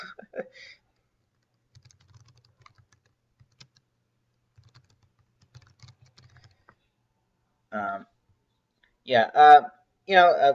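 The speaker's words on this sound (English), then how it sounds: "just typing something to Ben" Scattered light clicks of typing on a computer keyboard, faint and irregular, in an otherwise quiet room, with someone speaking briefly at the start and again toward the end.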